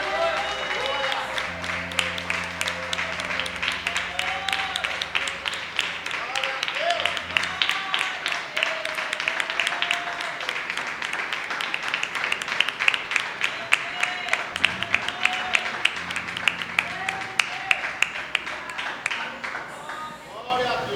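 A church congregation at a youth worship service breaks into sustained applause, dense rapid clapping that swells over a bed of crowd noise and held musical tones, with voices mixed in throughout.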